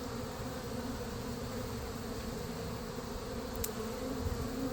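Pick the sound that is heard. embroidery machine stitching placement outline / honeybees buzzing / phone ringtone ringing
honeybees buzzing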